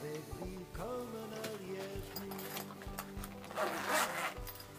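Padded zipper pouch, packed in a cardboard box with a Marbles MR117 knife, unzipped in a series of close, scratchy zipper pulls with small tugs and pauses, ending in a louder rasping run.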